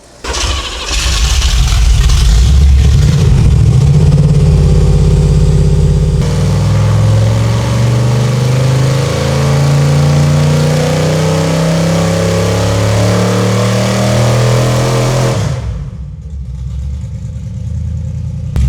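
A freshly built 350 engine on a dyno starts and runs hard, a loud roaring rev held for many seconds with shifting pitch before cutting off abruptly into a low rumbling idle.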